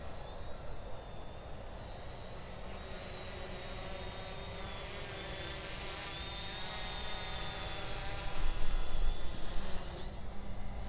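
A Hubsan Zino quadcopter drone hovering and flying outdoors gives a steady high-pitched propeller whine that rises slightly near the end, heard alone at moderate distance.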